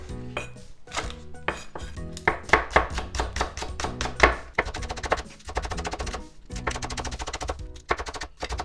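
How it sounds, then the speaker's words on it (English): A knife chops scallion on a cutting board in a home kitchen, with bursts of quick, crisp, evenly spaced strikes close by and brief pauses between the runs. "And then I'm going to cut up the scallion."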